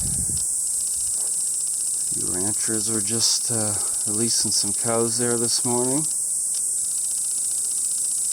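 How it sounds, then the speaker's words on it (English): Cicadas in great numbers in the northern Toquima Range of Nevada drone as a steady, dense high-pitched buzz that runs through the whole stretch, heard under a man's nearby speech in the open outdoors. "As you can hear, the cicadas are very much in abundance."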